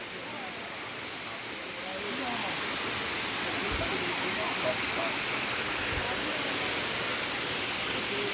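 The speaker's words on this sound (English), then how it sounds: "These waterfalls are quite nice." A waterfall near Minca, Colombia pours with a steady, dense broadband roar that grows slightly fuller after the first couple of seconds and then holds constant.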